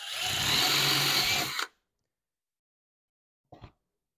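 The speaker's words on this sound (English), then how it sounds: "we'll drill a couple holes here" A power drill whirs loudly for about a second and a half while drilling holes in wood, then stops; a short second burst follows after a pause.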